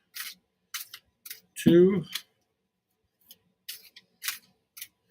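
Several quick, crisp rustling bursts of tarot cards being shuffled, spaced apart, with a voice briefly counting aloud in the middle.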